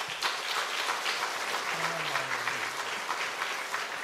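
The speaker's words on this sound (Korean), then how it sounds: "우리 격려의 박수로 좀" A church congregation at an autumn revival service claps warmly to welcome a visiting pastor, steady dense applause throughout with a brief low voice murmuring underneath midway.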